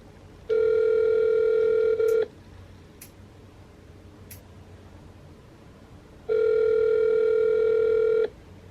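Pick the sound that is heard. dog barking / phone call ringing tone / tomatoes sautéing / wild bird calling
phone call ringing tone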